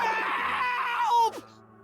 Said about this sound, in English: your inspection is cut short by his disturbing screams